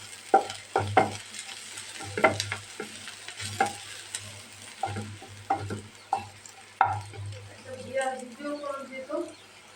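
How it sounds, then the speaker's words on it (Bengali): Chopped onion and garlic fry in a pan for a shim vaji, a steady sizzle broken by repeated scraping stirs of a utensil at irregular intervals. A faint voice talks briefly near the end. "পেঁয়াজটা আমার ভাজা হয়ে গিয়েছে"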